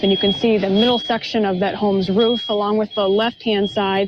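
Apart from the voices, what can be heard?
chorus of fire alarms going off in storm-damaged home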